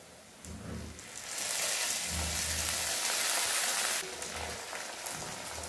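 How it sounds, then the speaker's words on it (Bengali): Ginger garlic paste hitting a pan of fried onions gives a loud, steady hiss that swells after the first second, holds, then eases off but keeps sizzling to the end. No one speaks. "পেঁয়াজটা আমার ভাজা ভাজা হয়ে গেছে, এবার দিয়ে দিচ্ছি এক চামচ আদা রসুন বাটা।"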